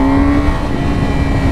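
A 2017 Yamaha R6 sport bike's engine holds a loud, steady high idle close by, a strong constant hum with a sustained whine and no clear rise in revs.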